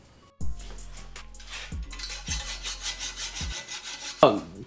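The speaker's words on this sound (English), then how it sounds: "we're gonna grab our Sawzall, and then we're just gonna cut right here" Sawzall reciprocating saw cutting through a plastic Barbie toy car, a steady rasping grind with a few harder strokes, close and fairly loud, running continuously with no talk.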